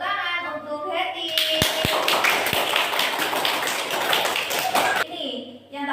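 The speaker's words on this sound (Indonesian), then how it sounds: "beri tepuk tangan untuk Hetty" Children in a classroom break into a burst of clapping for a classmate, loud and dense for several seconds after speech, with a few sharp thumps and talk before and after.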